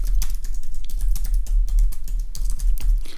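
Rapid, steady clatter of keys on a computer keyboard as a search term is typed in, with close, dense key strikes continuing throughout without speech.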